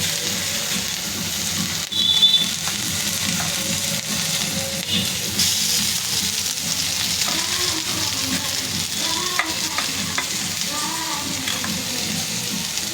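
Ginger and garlic fry in hot oil in a pan, a steady close sizzle with occasional stirring clinks and brief watery sounds, without speech.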